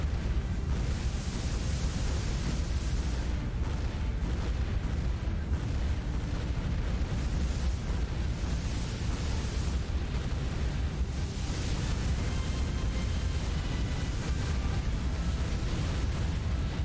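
Battleship shells from the Warship Gunner 2 video game fire and burst in a dense, continuous roar, the booms running together into a loud, unbroken rumble with no speech.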